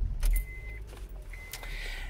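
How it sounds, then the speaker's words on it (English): A key ring jangles as a car is started. The car is fitted with an Alpine iLX-W650 head unit. Metallic rattles and clicks sit over a low engine rumble, with brief electronic chime tones, and nobody speaks. "And let's turn the car on."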